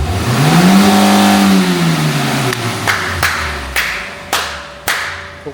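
A Nissan R32 GTR engine revs up and slowly falls back, then several sharp clacks or pops ring out at regular intervals, close and loud with no voices.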